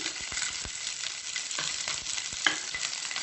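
Garlic, onions and capsicum fry steadily in a pan for Chicken Manchurian, a continuous close hiss with soft stirring knocks and scrapes scattered through it.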